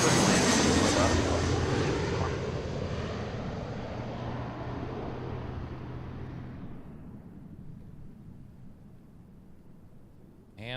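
Alaska Airlines jet near Seattle airport, a loud broadband engine roar that gradually fades as the aircraft moves away, with a steady low drone midway and a brief sound at the very end.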